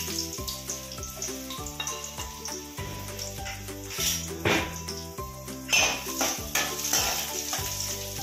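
Chopped ginger fries in a little hot oil in a pan, a continuous close sizzle with brief louder bursts, layered over steady rhythmic music.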